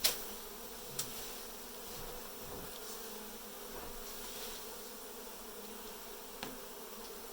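A steady, low droning hum of many honey bees buzzing close by during a hive cutout, continuous throughout with a few faint clicks and bumps.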